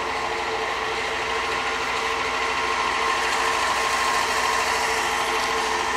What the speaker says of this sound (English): Waiting on the old air compressor to build up.